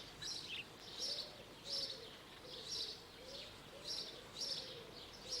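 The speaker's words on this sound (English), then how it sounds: "House sparrows are gregarious and very noisy, both by day and at their night roosts" House sparrows chirp in a noisy, gregarious group, a steady stream of busy calls with louder bursts roughly every second over continuous background twitter.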